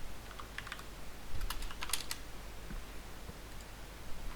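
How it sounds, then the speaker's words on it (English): Quiet typing on a computer keyboard during a sim-racing practice session, with scattered light key clicks and a few quick bursts over a faint background hiss. "I can hear you typing, but it's not really an issue for me."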